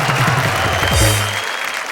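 Audience at a Hindi poetry recital breaks into a short, close burst of applause lasting about a second before it fades, with a little voice mixed in.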